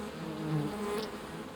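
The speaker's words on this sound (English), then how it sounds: "The humble honeybee is the most widespread bee in the world today" Honeybees buzzing nearby, a continuous droning hum that swells slightly midway, with no voices over it.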